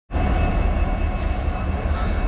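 WDP4D diesel locomotive arriving at Wadi Junction in Karnataka, a loud, steady, close rumble with a low engine drone and rolling rail noise that starts abruptly and holds.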